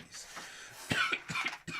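A few short, close coughs in quick succession, fairly quiet, with no talking.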